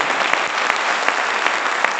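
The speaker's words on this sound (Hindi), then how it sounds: "तो एक बार ताली थोड़ी एक्साइटमेंट, ढीला डाला नहीं चाहिए" Audience at an RCM business meeting in Sujangarh clapping in a dense, steady burst of applause close by, with a few sharper individual claps standing out for two seconds.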